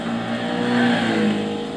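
A 2002 Lotus Esprit GT V8 3.5 32V biturbo in Gran Turismo 6 drones with a steady, sustained engine roar at constant loudness, heard alone.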